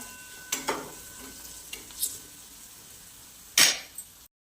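Spices being stirred and sautéed in a pan for potato patties, with a few scattered scrapes and soft clinks of a spoon, one sharper louder scrape near the end, over a faint low sizzle; no talking.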